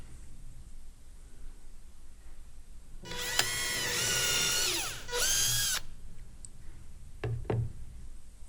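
A power drill with a 3.6mm bit bores two holes into skis, each a short high whining burst of a few seconds with a pause between, followed by a couple of knocks, close up.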